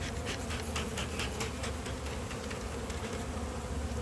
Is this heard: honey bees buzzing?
yes